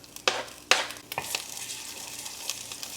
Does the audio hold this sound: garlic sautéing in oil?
yes